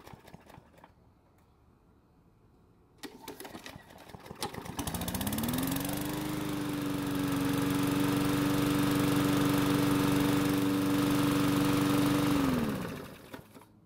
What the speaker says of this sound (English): Now this time it took 2 pulls to get it to start